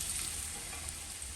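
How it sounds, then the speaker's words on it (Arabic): Garlic sizzling in oil with spices and pepper for a tomato-sauce eggplant moussaka: an even, steady hiss of frying, moderately quiet and unbroken, with no talk. "بنحمر التوم بالبهارات بالفلفل اهو"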